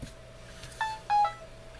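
A mobile phone gives a short electronic alert for an incoming call, two quick beeps heard close but fairly soft over a quiet room hum.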